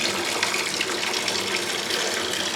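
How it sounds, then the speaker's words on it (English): Tap water runs steadily into a bathtub filling after a new budget water softener and filter installation, a continuous loud broadband gush with no pauses throughout. "here I am filling up the water in the tub after the water softener and water filter are installed"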